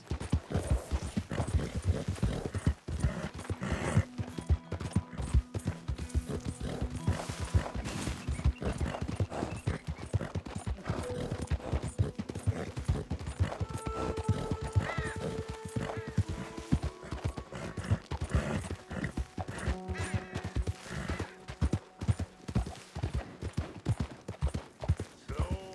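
Steady clip-clop of horse hooves in a rhythmic trot in the video game Red Dead Redemption 2, with game-like background sounds and occasional tonal notes underneath.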